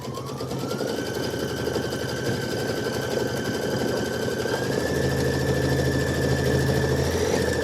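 A computerized embroidery machine stitching a tack-down on quilt fabric for a Kimberbell Hello Sunshine watermelon block, a steady close rapid mechanical hum and needle chatter that runs without pause.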